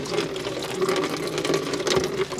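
Water flows and drains out of a newly installed air conditioner unit, a steady close gurgling stream with a low pump-like hum, no voices over it.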